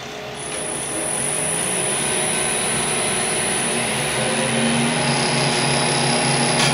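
A wood lathe spins a workpiece for colour-experiment woodturning, its motor rising within the first second into a loud, steady whirring drone with a thin high whine that holds unchanged.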